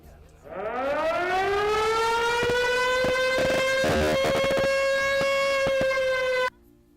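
A loud civil-defense siren in Planet Zoo winds up from a low growl to a sustained wailing tone, holding steady before cutting off abruptly near the end.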